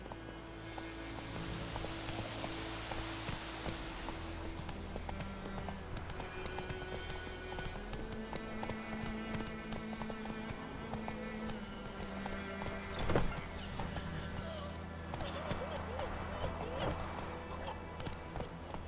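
A horse galloping in The Witcher 3, with rhythmic clip-clop hoofbeats and a brief whinny running under a spoken voice and game music, then one louder thud near the end.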